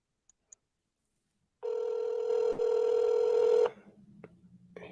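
Outgoing telephone call ringing: a single sustained electronic ring tone of about two seconds after a couple of faint clicks, followed by quieter line noise; no talking.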